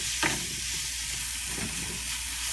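Sweet potatoes and plantains fry in a stir-fry pan, giving a soft, steady sizzle with a couple of brief scraping stirs.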